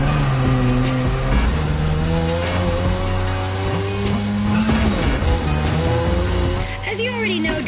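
A car drifting on the drift track in The Crew Motorfest racing game, with a loud, continuous engine note that rises and falls alongside squealing tires.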